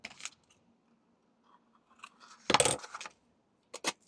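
Scissors snipping paper for a handmade shabby-style floral card, a few quiet, sharp separate snips with one louder crisp cut in the middle, close and otherwise near-silent.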